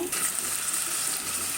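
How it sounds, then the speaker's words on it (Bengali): Spice paste of ginger and garlic with fried onions sizzles steadily in a pan after a splash of water is added, a close, continuous hiss with no talking. "একটু পানি দিয়ে নিব"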